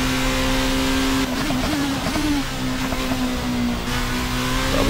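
Formula 1 car engine in a sim racing video game, a loud continuous high-pitched whine holding steady pitch with small dips as the car shifts and corners, filling the whole stretch without talk.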